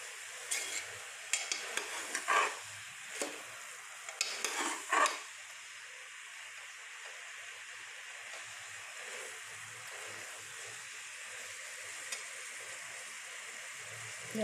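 Chickpeas frying in oil in a pan, stirred with a spoon in a cluster of scraping clatters over the first five seconds, then a soft steady sizzle carries on alone.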